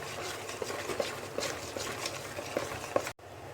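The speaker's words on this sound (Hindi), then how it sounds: "अब इसको अच्छी तरह से हम लोग मिक्स कर लेंगे।" Besan batter for boondi is stirred and mixed by hand in a bowl with soft, wet, repeated sloshing strokes, close and fairly quiet, ending in a brief cutoff.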